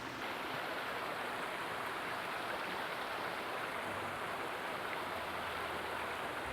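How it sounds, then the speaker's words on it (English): A waterfall flows in a natural outdoor setting, a steady, soft, even rush of water with no breaks, heard alone without voices. "I was able to capture a bit more of the waterfall"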